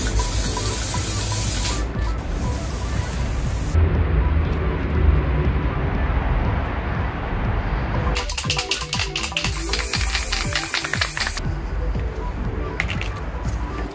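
Loud spray-paint hissing outdoors while a QR code stencil is painted, continuous spraying broken by short pauses and rattly bursts, with background noise throughout.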